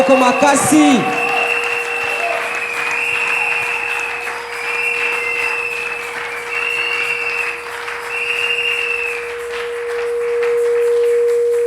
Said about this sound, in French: On l'acclame très très très très fort.